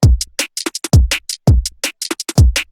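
A tight drum loop with booming kicks, sharp snares and short hi-hat ticks landing squarely on the beat in a rigid, evenly spaced rhythm.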